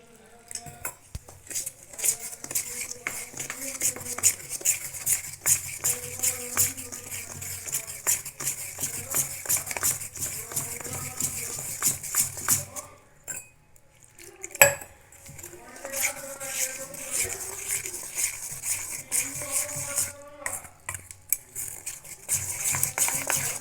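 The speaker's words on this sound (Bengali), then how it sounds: "এবার আমি এর মধ্যে দিয়ে দেবো জল" Water being added to dhokla batter and mixed by hand or spoon in a bowl, giving continuous wet squishing and clinking of utensil against the vessel, with a short pause midway.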